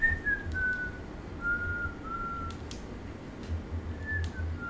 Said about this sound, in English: Why are you whistling for?